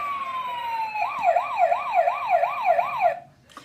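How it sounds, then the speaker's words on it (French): A toy fire truck, ambulance and helicopter siren sounding loud and close: a steady tone glides down, then a rapid wailing warble repeats about six times before cutting off abruptly. "Et ils ont une sirène en plus."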